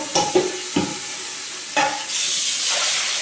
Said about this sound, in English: empty the dye out, and empty all the ripstop out, rinse around